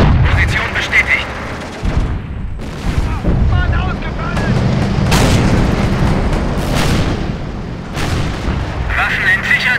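Heavy gunfire and booming cannon blasts in Company of Heroes, a World War II strategy game set at Stalingrad, with loud repeated shots and explosions over rumbling combat, and game voices speaking in German.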